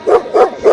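Three loud, close dog barks in quick succession, part of a fake dog prank.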